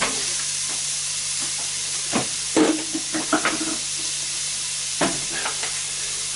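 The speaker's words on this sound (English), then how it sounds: "Advantage of Spoonzilla is you can see what I'm doing. I'm stirring." A big spoon stirs minced lamb and pea curry (keema matar) in a sizzling pan, with scraping, clunking strokes in irregular bursts over a steady hiss of frying, close and moderately loud, with no talking.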